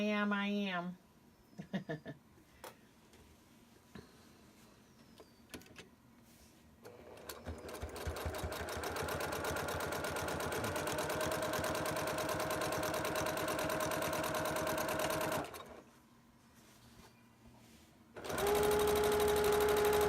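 A sewing machine stitches a seam on a quilted table runner in two long, even whirring runs with a pause between them. Brief clicks and handling noises come first, and a voice is faintly present.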